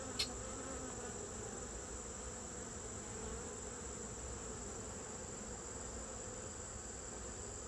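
Honey bees buzz as a steady, faint drone throughout a hive inspection in the field, with a brief click near the start and no talk.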